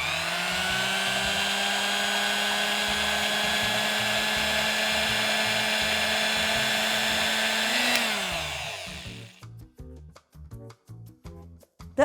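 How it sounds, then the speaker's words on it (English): An electric grinder whirs loudly and steadily, pulverizing cashews, pistachios and peeled cardamom pods into powder. It holds an even whine, then winds down and stops, followed by a few soft taps and knocks. "Let's just grind all these dry nuts together."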